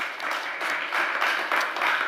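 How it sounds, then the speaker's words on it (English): Audience applause for a panel at a COP28 pavilion session, brief steady clapping from a moderate crowd, fairly close and even. "Give them an applause"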